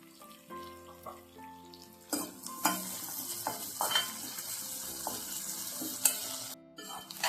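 Cashews and onions are sautéed in a pan for an idiyappam recipe. A soft sizzle runs under intermittent stirring and scraping, with faint clinks and a bit of running water. The whole clip is quiet and close.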